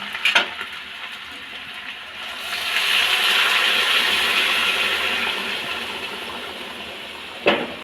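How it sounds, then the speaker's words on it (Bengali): Water poured into a pan of fried spice masala for a pointed gourd and prawn curry, a rising hissing splash that swells and fades over several seconds, framed by short clatters of utensils. "এখন আমি পরিমাণ মতন জল দিয়ে দেব"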